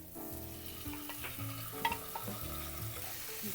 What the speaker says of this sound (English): Sauté these onions until they're a little translucent.